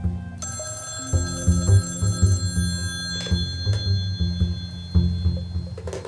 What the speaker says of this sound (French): Le téléphone sonna à l'instant où il sortait dans le hall.